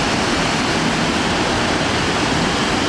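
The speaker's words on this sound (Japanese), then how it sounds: "意外に立派な滝でしたね。" A powerful waterfall in Shosenkyo gorge pours with heavy volume, a loud, constant broadband rush of falling water that fills the whole span with no voices.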